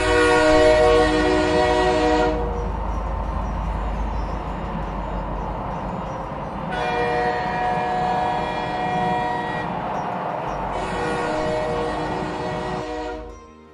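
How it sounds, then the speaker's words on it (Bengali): A passenger train rolls along the track with a steady low rumble and rhythmic clatter. Its loud horn sounds three times in long blasts over the running noise. "আমাদের ট্রেন গন্তব্যের দিকে ছুটে চলেছে"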